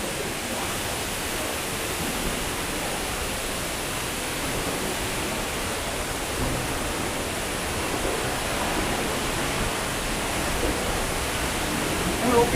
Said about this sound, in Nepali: पानी एकदमै फ्लोमा आइरहेको छ